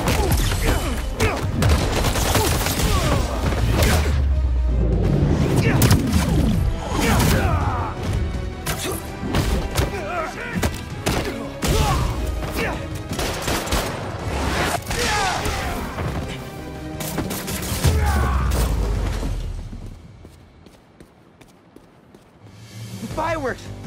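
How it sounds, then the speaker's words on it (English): Loud bursts and crackling explosions of fireworks go off in Marvel's Spider-Man 2 on PS5, with dense, overlapping blasts near a river for about twenty seconds before they thin out, under a busy game mix. "fireworks. They're lit."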